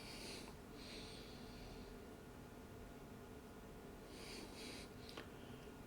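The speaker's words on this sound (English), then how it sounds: "Let's get a wee sniff, eh?" Two close, breathy sniffs at a glass of Bruichladdich 10 Year Old 2012 Bere Barley unpeated whisky, one at the start and another near the end, with quiet room hiss between them.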